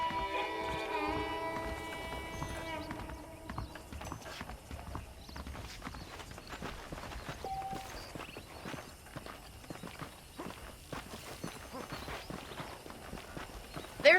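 In Red Dead Redemption, a horse's hooves clip-clop in a steady walking rhythm at low level, with a faint tonal chime early on and brief talk mixed in.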